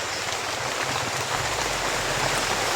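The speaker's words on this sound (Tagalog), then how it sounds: "Brad, lumalakas na yung ulan, Brad." Heavy rain pours down in a dense, constant hiss, with no pauses or voices over it.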